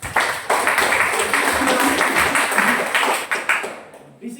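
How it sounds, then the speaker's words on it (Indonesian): A classroom of students claps loudly and steadily for a classmate, a dense patter of hands lasting about four seconds before trailing off. "Oh ya, boleh tepuk tangan."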